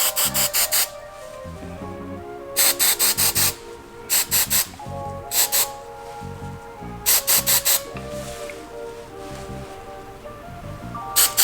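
Hairspray sprayed onto hair, a series of short hissing bursts in clusters of two to four quick puffs, close and fairly loud with quieter rustling between them.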